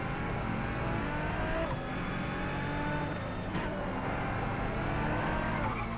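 A race car engine in the GRID racing game drones loudly and continuously, with steady revving and a few brief surges as the throttle rises and falls, and no voice over it.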